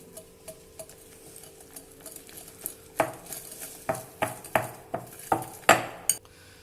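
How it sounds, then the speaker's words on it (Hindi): A beater works an egg into chocolate cake batter in a bowl with quick, light clicking taps that turn into louder, sharper knocks against the side of the bowl toward the end, with no one speaking. "पहले बीटर से हल्के हाथों से मिक्स करेंगे।"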